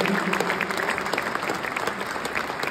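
An audience at a ceremony marking 100 days before the FIS Alpine Ski World Championships applauds the mayors of Méribel and Courchevel, producing dense, even clapping that fills the whole stretch at moderate volume.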